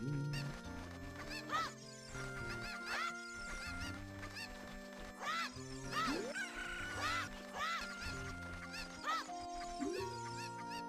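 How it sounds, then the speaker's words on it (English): Cuckoo chickens in The Legend of Zelda: Ocarina of Time 3D cluck over busy game music, their short squawks popping up repeatedly through the clip, with no talking. "My cuckoos have run away."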